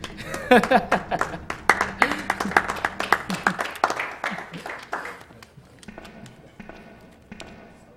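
Scattered audience clapping at a video game speedrun charity marathon, a burst of uneven claps with some chuckles and voices mixed in, thinning out and fading toward the end.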